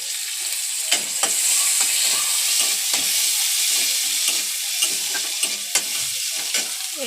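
Chopped green chillies and garlic paste fry in a pan for chicken curry, a loud, continuous close sizzle broken by frequent spatula scrapes and taps, with no talking.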